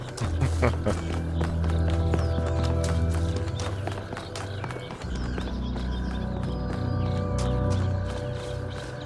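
Horse hooves from the video game The Talos Principle 2 clip-clop in a fast, steady rhythm over sustained in-game tones, briefly pausing midway before resuming.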